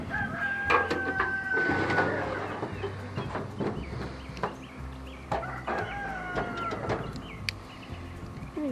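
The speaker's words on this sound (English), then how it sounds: "Any chickens in the front yard?" Chickens clucking and a rooster crowing nearby, with scattered clicks and rustling outdoors.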